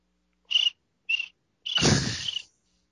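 A person's voice imitates crickets chirping, with two short high chirps followed by a longer, breathier rasping chirp, close and alone.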